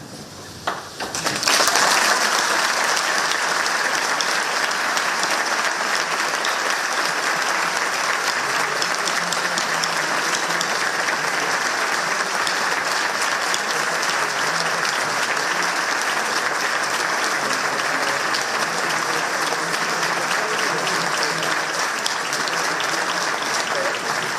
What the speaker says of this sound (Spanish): ovación en directo desde ese aula magna de la Universidad